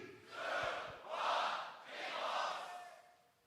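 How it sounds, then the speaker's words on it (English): A crowd at a beatbox battle at the GBB24 World League loop finals roars in three swelling waves of cheering, rising and falling in a chant-like rhythm, fairly faint and distant. "make some noise for Mate"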